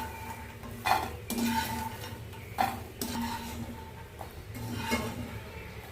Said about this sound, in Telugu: ఇప్పుడు నేను ఇవి ఒక బౌల్లోకి తీసుకుంటాను.